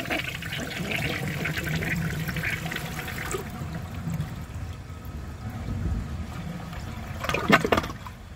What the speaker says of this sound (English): It took it in one flush.